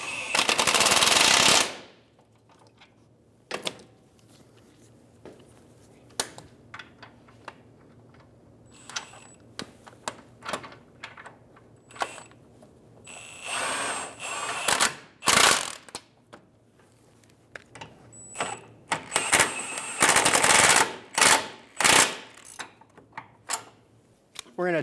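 Bolts on a Toyota Camry front lower control arm are snugged down with a ratchet, giving quick clicking runs and sharp metallic bursts, close and loud, alone without talk.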